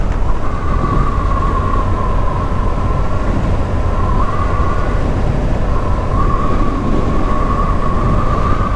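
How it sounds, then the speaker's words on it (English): A steady roar of wind rushes past a moving motorbike, loud and constant throughout, with a faint whine wavering above the rumble. "The wind's screaming up here."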